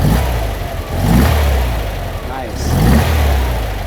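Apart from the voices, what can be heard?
1957 Porsche Speedster engine revving, throttle snaps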